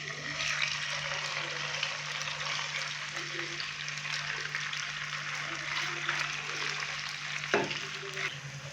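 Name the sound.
chicken frying in hot cooking oil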